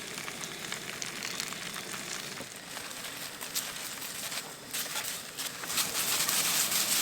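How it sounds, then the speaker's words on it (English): Garlic and a heap of spinach sautéing in bacon fat in a cast iron pan outdoors at a wilderness campsite, a soft steady sizzle and patter that swells slightly toward the end, no voices. "I am making some sautéed spinach, first browning some garlic and bacon fat"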